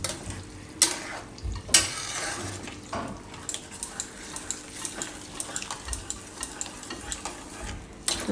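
Jain pav bhaji vegetables sizzle in a pan during stirring, with a steady frying hiss under repeated spatula scrapes and two sharper knocks early on, close and without speech.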